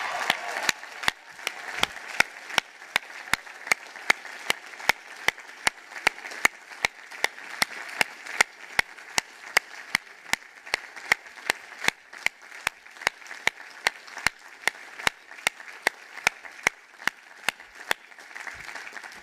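A crowd at a university commencement ceremony applauds 2020 and 2021 graduates in a sustained wash of clapping. One loud, close pair of hands claps in a steady, regular beat on top of it for the whole stretch.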